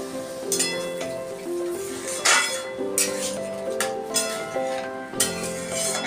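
A spoon stirs curry in a pot after cooking water saved from boiled chana dal is poured in. Close scraping and metallic clinks recur in uneven strokes over a steady tonal background.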